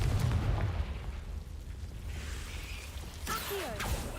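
A fiery Confringo spell explodes in Hogwarts Legacy with a deep, heavy boom at the start, followed by a rumbling tail and another sharp burst with swooping magical tones near the end.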